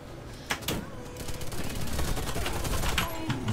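Rapid bursts of gunfire crack at close range in the video game Warface, a couple of sharp shots followed by sustained automatic firing.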